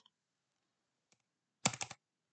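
A computer keyboard has a shift and tab key pressed together, giving a quick cluster of close, crisp clicks after a faint lone tap, with near silence around them.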